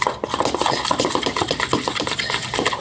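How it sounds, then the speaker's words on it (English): A utensil stirring blue food dye into glue for fluffy slime in a bowl, with continuous rhythmic scraping and wet sloshing strokes, close up and fairly loud, no voices. "Stir that together."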